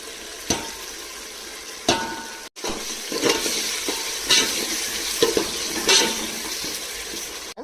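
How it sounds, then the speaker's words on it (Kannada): Tomato and onion paste for mutton biryani hits a hot pan and sizzles loudly, with sharp splattering bursts, stirring scrapes and a brief drop-out partway through. "ನಾನು ಬಿರಿಯಾನಿ ಮಾಡೋದಕ್ಕೆ ಪೇಸ್ಟ್ನ ಹಾಕೋತಿದ್ದೀನಿ"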